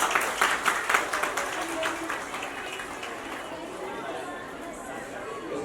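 Women at a Raksha Bandhan sari distribution event clap together in a crowd, a burst of applause that fades into softer, scattered clapping and murmuring chatter.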